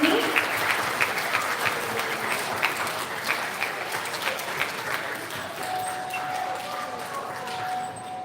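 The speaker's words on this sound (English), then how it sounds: "please, in one more big round of applause for all of the students that received awards at today's ceremony" An audience at an elementary school student recognition ceremony applauds, a dense, sustained clapping that fades slowly toward the end, with a few faint voices underneath.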